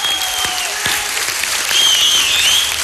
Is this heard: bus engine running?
no